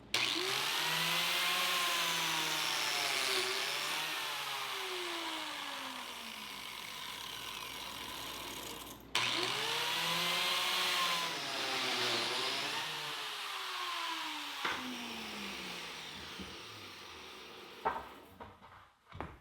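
A biscuit joiner cuts slots in white oak boards in two bursts, each a high motor whine that winds down in falling pitch, with a sharp knock between cuts and small clunks near the end.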